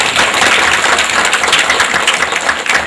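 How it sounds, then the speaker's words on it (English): An audience claps for a prize winner at a state-level school event, dense, loud, sustained applause with no pauses throughout. "Can we give her a big round of applause?"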